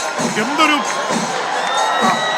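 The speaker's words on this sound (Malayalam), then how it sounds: "വലിയ ആരവം" A huge festival crowd at Thrissur Pooram roars and cheers during the kudamattam umbrella exchange, a sustained wall of shouts and whoops with rising yells, loud and dense throughout.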